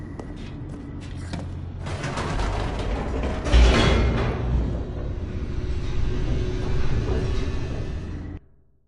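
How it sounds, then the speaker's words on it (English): An elevator in The Stanley Parable descends with a steady mechanical rumble and grinding, creaking machinery. A brief louder clunk comes partway through, and the sound cuts off abruptly near the end. "The elevator raced downward"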